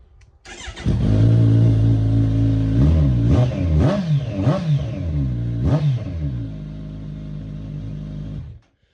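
A motorcycle engine revs loudly and raw, rising and falling in several sharp bursts over a steady, rumbling idle, close to the microphone.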